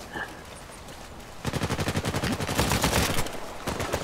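Rapid automatic gunfire in Uncharted multiplayer, shooting wine barrels, a dense rhythmic stream of close, loud shots starting after a quieter opening and running to the end.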